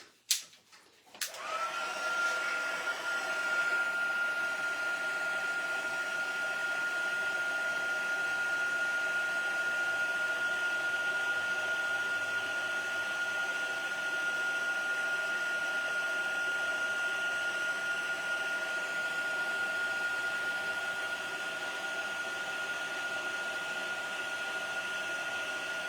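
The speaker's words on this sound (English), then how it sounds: "And I'm gonna go ahead and heat set it." A handheld heat tool whirs on after a click and blows steadily for the full length, a close, even whine while a craft project is heat set, with no talk.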